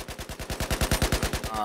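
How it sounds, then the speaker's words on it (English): SAR-21 rifle emptying a full magazine in Battlefield 4 with the sights aimed, a rapid, evenly spaced burst of about fifteen loud, close shots fired without pause. "I'm gonna ADS and just shoot straight."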